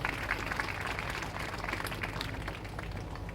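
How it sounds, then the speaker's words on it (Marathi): Audience applause at a temple gathering for the anniversary of a Rameshwar Mahadev temple, a steady dense wash of clapping hands sustained throughout without a break. "एकदा टाळ्या वाजवा"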